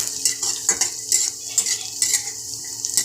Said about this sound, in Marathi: लाल झाल्यावरती घालणार आहे मिरची, कढीपत्ता, मस्त असं परतून घेते.